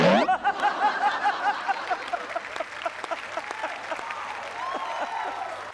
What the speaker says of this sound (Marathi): जोरदार टाळ्या सुलग्नासाठी आणि सुचित्रा मॅम साठी झाल्या पाहिजेत.